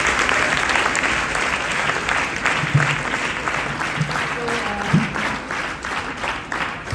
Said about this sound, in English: I think a big clap for sir.